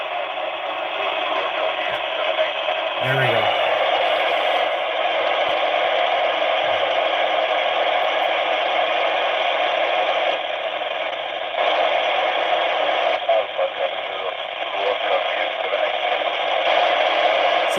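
An amateur radio signal relayed through the International Space Station's FM repeater comes in as a loud, steady band of hissy, crackling transmission noise that persists throughout. Faint keying clicks break it up briefly, and a voice speaks once near the start.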